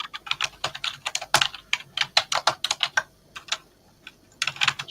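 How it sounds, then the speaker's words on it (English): Rapid typing on a computer keyboard, close and crisp, with bursts of clicky keystrokes in uneven rhythm and short pauses between runs, heard alone without talk. "I'm typing, sorry, I'll mute."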